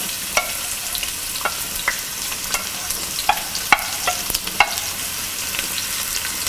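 Sliced onions fry in about four tablespoons of hot oil, a steady close sizzle broken by repeated clinks and scrapes of a spoon stirring the pan.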